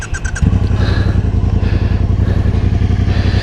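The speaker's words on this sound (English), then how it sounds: "This one you have to pull in the clutch and then start it." A 2022 Triumph Bonneville Bobber motorcycle starts with the clutch pulled in. A short starter whir catches into a loud, close idle with a steady thumping twin-cylinder pulse through dual exhausts.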